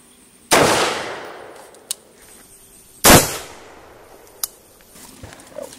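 Two sharp, loud .556 rifle shots fired at a Midwest Armor Guardian IV ceramic body armor plate outdoors, each a sudden crack with a trailing decay, about two and a half seconds apart, followed by faint distant pops.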